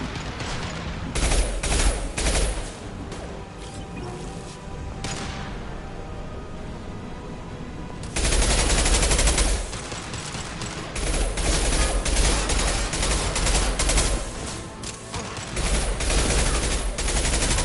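Video game battle gunfire, dense bursts of automatic fire and rattling fusillades, loud and continuous with brief lulls, growing heavier partway through.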